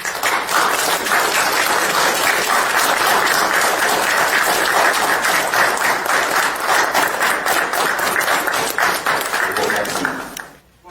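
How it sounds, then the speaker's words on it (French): Sustained applause from a standing audience at a general assembly of a French pétanque club in a community centre, dense steady clapping for about ten seconds before quickly dying away. "mais 10 secondes d'applaudissement."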